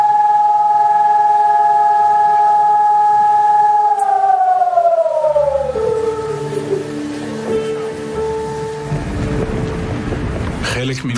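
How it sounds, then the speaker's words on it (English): An air raid siren sounds across Israel on Yom HaShoah, a loud steady wail that slides down in pitch and fades while rumbling wind noise and low background sounds rise underneath. "air raid sirens in Israel ring out at 10 a.m."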